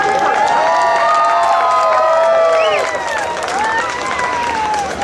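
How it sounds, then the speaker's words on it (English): An outdoor crowd at an open house air show cheers and claps for the US Army Golden Knights parachute team, with loud continuous applause, whistles and shouting voices throughout. "Please give them a wide round of applause,"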